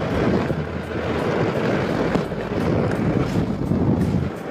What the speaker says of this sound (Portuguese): Tá ventando pra caramba, pessoal.